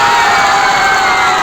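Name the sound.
crowd clapping and cheering at a rally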